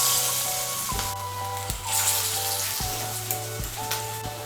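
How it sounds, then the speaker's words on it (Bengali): Pointed gourd fritters frying in hot white oil in a kadai, a steady loud sizzle and crackle throughout with a few soft knocks of utensils, no voice. "এর মধ্যে আমি বড়াগুলো ভেজে নেব।"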